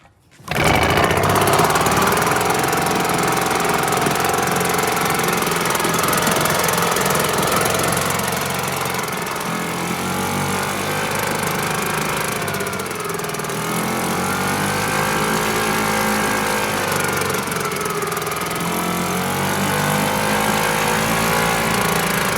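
A British Seagull outboard engine runs steadily and loudly for the whole stretch, a close, continuous mechanical drone with a slight waver in pitch midway and no talking.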